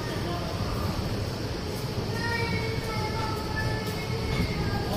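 A train departing a railway station on an Indian line, a steady rumbling roll of wheels and carriages with faint metallic squeaks, continuous and moderately loud across the whole stretch.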